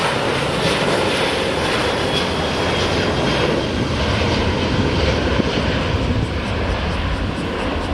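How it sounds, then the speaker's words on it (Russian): A fixed-wing airliner takes off from a small Shirahama resort airport runway that ends near a cliff, a loud steady engine roar filling the whole stretch without let-up. "Когда взлетают самолеты над пропастью,"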